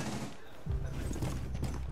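Gunfire in Rainbow Six Siege, a burst of shots in the middle of a tense round, low and rumbling under a busy mix with voices talking over it.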